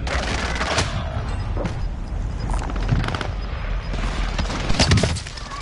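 Gunfire rips through a Call of Duty Warzone match, with repeated sharp bursts and booming shots close by in irregular clusters over a rumbling background.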